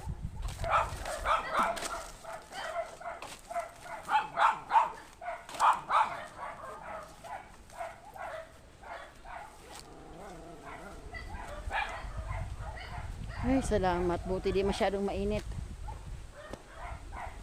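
A dog barks repeatedly in short bursts and whines, while people talk nearby; outdoor rustling underneath.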